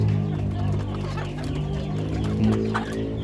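Native chickens cluck and murmur close by as they crowd in for corn feed, a dense flock chatter steady throughout the short stretch.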